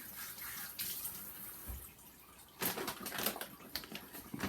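Berries being rinsed under a running kitchen tap, a faint steady water flow that swells louder in the second half with splashing.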